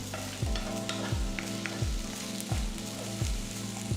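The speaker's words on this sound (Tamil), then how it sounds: "இதெல்லாமே லைட்டாக வதக்கிக்கலாம்" Onions and greens sauté in a pan for a Madurai-style chutney, with a steady sizzle under a repeated scraping stir roughly every half to three-quarters of a second, close and fairly loud.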